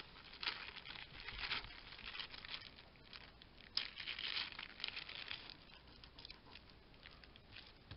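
Scissors cut a piece of card in soft, close snips and rustles that come in irregular bursts, quiet and without talk.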